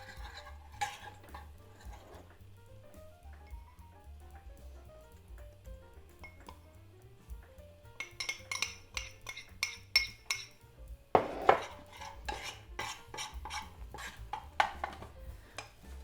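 Butter and flour roux worked in a pan, heard as faint whisk scraping that turns into brisk, rapid metallic clinking in the second half, close and fairly quiet over a soft background hum.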